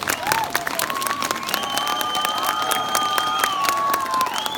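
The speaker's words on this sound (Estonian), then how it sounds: "Aplaus, aplaus." A crowd claps and cheers at a night event in Rakvere castle, with high whooping and shouting voices rising over steady applause, loud and close throughout.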